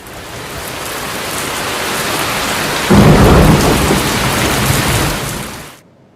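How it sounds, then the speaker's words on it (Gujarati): Unseasonal rain pours down in Gujarat as a loud, steady downpour, with a deep thunder rumble swelling midway before the sound cuts away. "તો વાત હવે રાજ્યમાં કમોસમી વરસાદ વિશે।"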